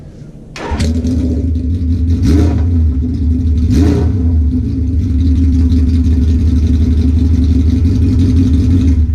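A Suzuki GS850 motorcycle with its muffler removed fires up with a sudden burst, then settles into a loud, raw, steady rumble, with two short throttle blips early on before holding a constant idle.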